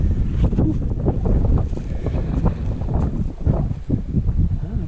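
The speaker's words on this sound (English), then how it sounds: "the wind is catching me up" Strong wind gusting across an exposed mountainside on a hike in Norway, a loud, continuous low buffeting roar against the microphone with no talk.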